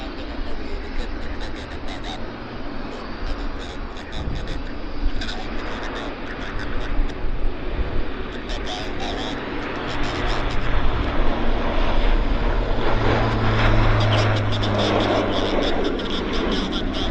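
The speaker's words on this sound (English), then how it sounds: "the Q400's rolling" A Bombardier Q400 turboprop airliner rolls for takeoff at Vancouver Airport, its engines a loud sustained roar that builds steadily, with people talking over it.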